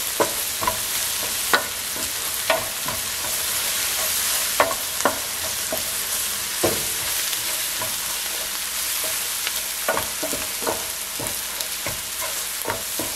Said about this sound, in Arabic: ونحمل البصل ويا البهارات لمدة دقيقة طبعا.